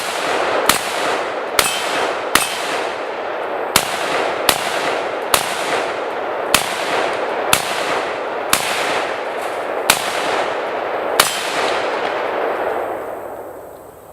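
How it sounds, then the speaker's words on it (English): Gunshots ring off a steel target, about a dozen sharp metallic clangs spaced irregularly, each loud and close with a short ringing tail, over a steady background hiss and no talking. "Let's take a few shots."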